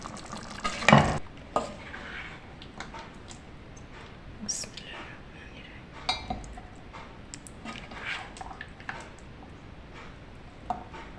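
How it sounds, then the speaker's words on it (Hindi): Murgh cholay curry scooped out of a cooking pot, with spoon scrapes and soft clinks against the metal, a louder clatter early on and then intermittent light knocks, with quiet background noise. "चूल्हा बंद कर देते हैं और डिश आउट कर लेते हैं"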